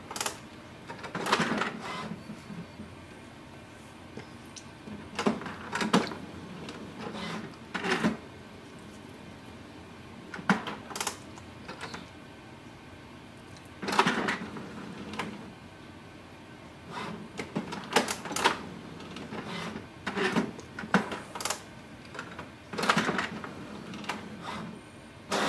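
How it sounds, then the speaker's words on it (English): An HP Smart Tank 5100-series printer runs its automatic printhead cleaning, giving off repeated bursts of mechanical clicking and whirring separated by quieter pauses, moderately loud and close with no talking. "While printer is doing this printhead cleaning"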